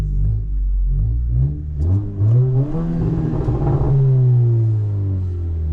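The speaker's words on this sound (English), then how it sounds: "Let's hear my exhaust." A 2022 Honda Civic Si engine revs up and down repeatedly, a deep throaty aftermarket exhaust rumble rising and falling close by, with no talking.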